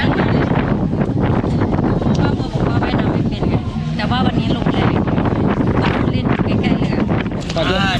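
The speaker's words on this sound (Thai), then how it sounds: "Today is uh, too windy." Strong coastal wind roars and buffets the microphone steadily near boats off Koh Samui, with a faint motor underneath and voices talking through it.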